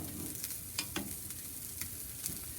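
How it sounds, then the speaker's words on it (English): Steady, soft sizzling of breakfast food frying on a Blackstone griddle, with occasional faint pops and scrapes throughout. "I'm going to let those sizzle away for a bit"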